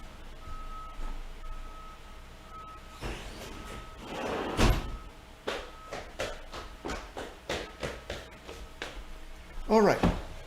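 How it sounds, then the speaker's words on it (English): An indoor door closes with a loud thud, followed by a run of smaller clicks and knocks, while a truck rumbles and beeps outside and faint voices sit in the background. "Let me close the door."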